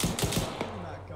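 A quick burst of automatic gunfire in Arma 3, several sharp rapid shots at a USMC night fight in Fallujah, fairly faint and followed by a lingering low rumble.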